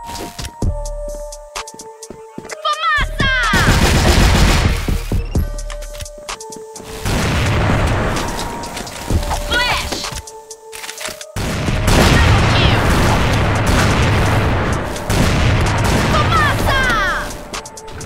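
Loud, close bursts of booming explosions and gunfire crackle from an online shooter game during play, arriving in several dense waves separated by short gaps, with no talk.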